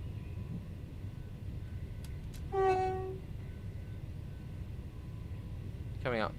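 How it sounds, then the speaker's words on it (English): A train horn sounds briefly as another train passes a commuter line in the video game Train Sim World 4, then a second horn blast near the end over a constant low rumble of the cab. "There's another train."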